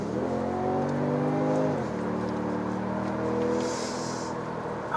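A Genesis G70 2.0T with Htrac all-wheel drive and an automatic transmission accelerates hard in third gear. Its engine note climbs steadily, dips briefly at a shift, then keeps rising, heard from inside the car without talk.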